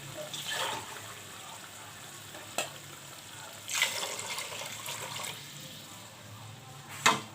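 Water is poured into a pan of frying chana for pulao, giving a soft running, splashing wash with a few sharper clinks and splashes, fairly quiet and with no talking.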